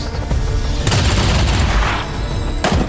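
Rifle fire in XCOM Long War 2, a loud volley of gunshots crackling close, with a sharp burst at the start, a heavy sustained blast in the middle and another shot near the end.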